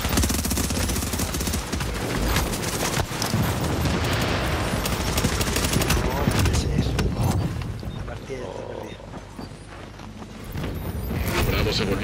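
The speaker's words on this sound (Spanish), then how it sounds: "pegan unos balazos" Rapid bursts of video game gunfire crackle through a dense, busy mix, with people talking over the shooting.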